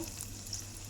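Garlic sizzles in hot tempering oil with a steady, faint hiss and fine crackle that runs unbroken through the brief moment.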